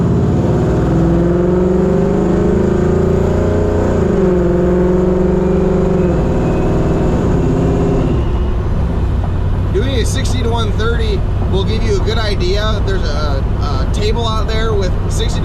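A supercharged Coyote-swapped GT500 car accelerates hard, its engine droning loud and rising in pitch, then shifting and climbing again close by, with someone talking over it.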